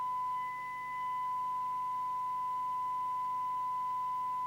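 A steady, continuous sine-wave test tone at about 1 kHz comes from the receiver of a Danita 1240UK mobile CB radio under alignment. It holds a constant pitch and level for the whole stretch, faint hiss beneath it, with no talking.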